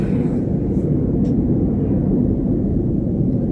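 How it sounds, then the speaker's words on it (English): A fixed-wing airplane passing close overhead, a loud, steady low rumble filling the whole moment without letup and no speech over it. "Plane sounds awful close."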